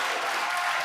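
An esports crowd at an ESL Pro League quarterfinal bursts into a brief wash of cheering and applause, loud and dense, lasting under a second.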